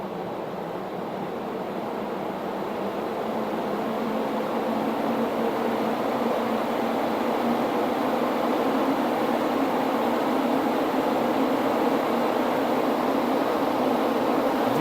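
Electric fan running under an LDT-4000 W speed regulator, giving a steady broadband whoosh of moving air and a motor hum that holds constant at moderate loudness throughout, with no speech.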